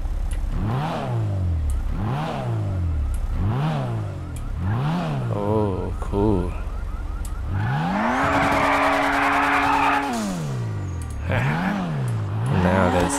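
A Toyota Supra car mod in GTA 5 revs through repeated rising and falling engine sweeps, then a long loud tire squeal and skid before the engine climbs again, all close and dominant.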